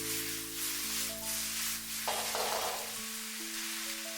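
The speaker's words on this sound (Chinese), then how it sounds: "在翻炒的过程中，我们一定要轻轻的，不然的话豆腐还是很容易碎" Tofu, mushrooms and tomatoes are stirred gently in a hot wok, a soft sizzle with light scraping of the spatula, under a steady tonal music bed and no talking.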